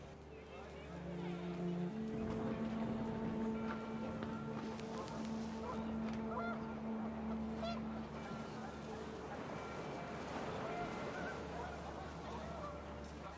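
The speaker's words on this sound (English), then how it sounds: "panicked geese appeared and quickly went" Geese honk in the What Remains of Edith Finch video game, a flurry of loud, overlapping calls with a long sustained honk early on, set against windy outdoor ambience.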